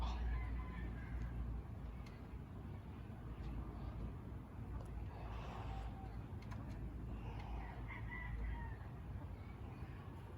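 A chicken near its backyard coop gives soft clucks while pecking at the ground. The calls are faint and scattered over a low, steady background hum, with no talking.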